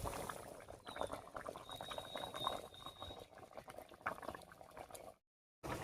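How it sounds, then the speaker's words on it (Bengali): Singi fish curry with potatoes boils in a pan, giving a steady, close bubbling and simmering crackle that continues for several seconds before a short cut of silence. "রান্নায় বেশ কিছুক্ষণ বলক উঠে গেছে।"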